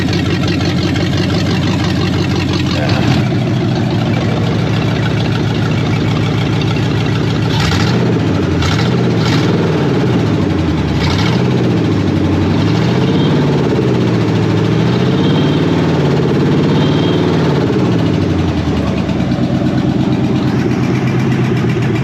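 An old car engine idles loud and rough close by, a noisy, uneven mechanical drone with a burning plug wire, its tone rising and falling in wavering surges midway before settling back to a steady rumble.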